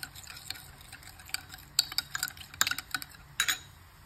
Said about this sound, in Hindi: इसको मिक्स कर लेते हैं अच्छे से, मिक्स मिक्स मिक्स।